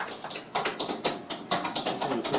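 Feet tap out the Applejack folk dance step from North Carolina, a quick, close run of sharp clicks in uneven bursts, with no voices.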